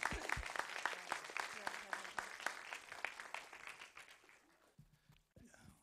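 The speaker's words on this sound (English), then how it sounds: "Let's give another round of applause." Applause at a city council meeting, a room of hands clapping steadily and close, then fading and trailing off near the end.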